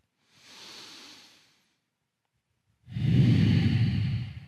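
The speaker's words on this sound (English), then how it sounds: "One more breath." Slow deep breathing during a yoga session: a soft inhale, a pause of silence, then a louder, fuller breathy exhale close to the mic, with no talking.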